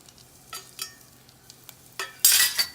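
Turmeric, chili and coriander powders with ginger garlic paste fry for onion salna, heard as sparse stirring taps and scrapes that end in a short loud burst of sizzling.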